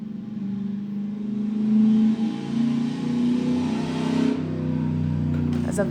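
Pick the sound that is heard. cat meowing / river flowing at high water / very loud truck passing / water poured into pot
very loud truck passing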